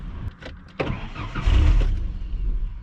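A car engine runs on a tank dosed with Red Bull, then sputters and dies. Brief clicks and a rough mechanical rattle give way to a low, uneven rumble that fades as the engine stalls. The sound is close, with no speech.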